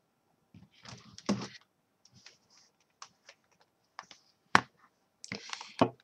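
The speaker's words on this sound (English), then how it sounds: "This is just a keyboard." Typing on a computer keyboard on a desk, sparse irregular key clicks and taps in short clusters, fairly close and clear with no talking.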